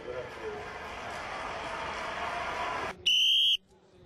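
Loud crowd murmur cuts off, and a single sharp, shrill whistle blast sounds for about half a second.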